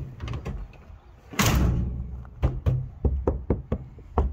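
The door of a Dodge van fitted with sound deadener is handled and shut, heard as a loud close thud followed by a series of sharp knocks and taps.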